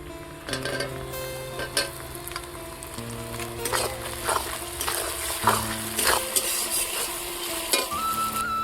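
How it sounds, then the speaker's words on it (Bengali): Chopped tomatoes added to reddened onions frying in a pan with whole spices and dried chilli for a catla fish curry, sizzling steadily while a spoon scrapes and stirs in repeated strokes. "পেঁয়াজটা ভাজা লাল হয়ে গেছে, এখন আমি টমেটো দিয়ে দেবো।"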